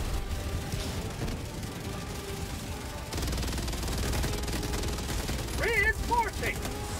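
Exosuit gunfire in a video game battle, a dense rattling barrage of automatic shots that continues throughout, with a brief electronic chirping near the end.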